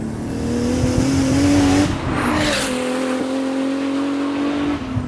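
A 700 hp Mk4 JDM Toyota Supra with a stock engine and quick-spooling turbo pulls hard in third gear on boost, its engine note rising loud and close, with a brief rush of tire noise as the wheels spin.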